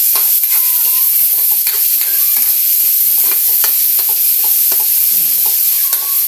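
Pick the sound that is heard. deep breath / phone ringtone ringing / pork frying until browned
pork frying until browned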